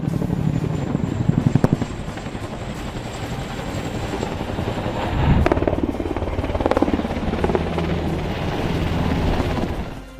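Firefighting helicopter flying over a wildfire, its broadband rotor roar loud and steady throughout with rumbling low end and a brief swell midway, no voices.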